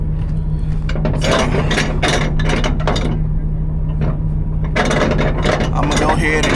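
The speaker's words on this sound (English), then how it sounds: "I'm gonna go ahead and get all these straps tightened down on here." Ratchet straps are cranked tight on a truck's load, giving repeated loud, close metallic ratcheting clicks in bursts with short pauses between them, over a steady engine hum.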